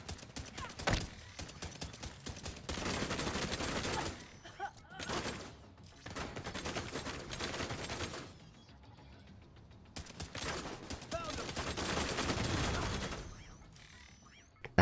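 Pistol gunfire in The Division, heard as bursts of rapid sharp shots and mechanical clatter in several loud stretches separated by brief quieter gaps, close-up within busy game combat.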